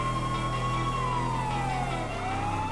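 Police car siren in GTA 5 wailing steadily and loud, its tone sliding slowly downward, with engine rumble underneath and no talk.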